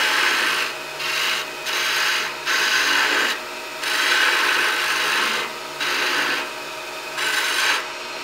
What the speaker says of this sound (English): I'm going to just peel that off with my smallest skew chisel